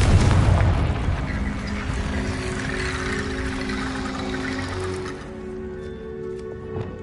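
A Confringo fire-blast spell explodes in Hogwarts Legacy, a heavy boom at the start that settles into a sustained rumbling roar with crackling debris, slowly thinning out over several seconds.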